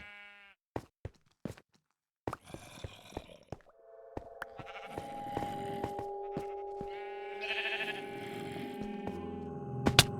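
Sheep bleat repeatedly in short and drawn-out calls in a video game, mixed with scattered clicks and a steady electronic hum in the background.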